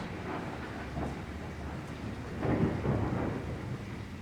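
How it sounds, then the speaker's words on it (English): Thunder from a storm at night near an old school building in Brodhead, Wisconsin: a low, heavy rumble that swells midway and rolls on, close and loud, with no talking. "That was close, sorry. Storm scared me a little bit."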